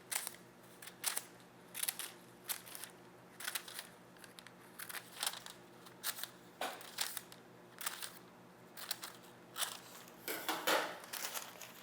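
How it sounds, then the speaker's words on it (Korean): Scissors snip through the folded parchment paper lining of a sponge cake tin, a steady series of crisp, papery cuts with light crinkling, close and fairly quiet, with no talking. "요 접혀진 부분을 가위로 대각선으로 사선으로 한 2-3cm 간격으로 잘라줍니다"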